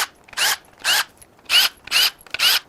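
Ratchet wrench working on the cam gear bolts of a Toyota Tundra V35A twin-turbo V6, five sharp bursts of rapid clicking in a steady back-and-forth rhythm, close and clear with quiet gaps between strokes.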